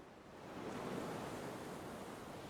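Ocean waves from a naval video game wash in as a steady, full roar of surf that swells slightly after the first half-second and then holds evenly, with no voices over it.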